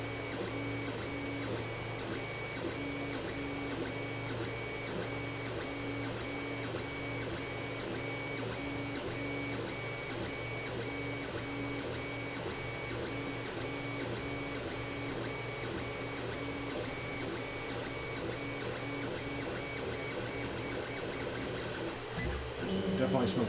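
Creality CR-10S 3D printer running steadily with whirring stepper motor tones and faint beeping, continuous for the whole stretch, with a louder burst near the end.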